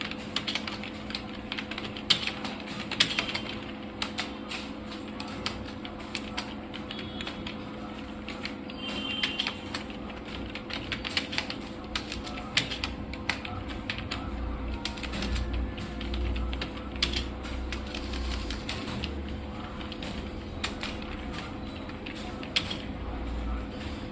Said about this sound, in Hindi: मैं यहाँ पर टाइप कर रहा हूँ।